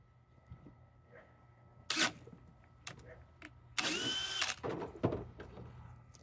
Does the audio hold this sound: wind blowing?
no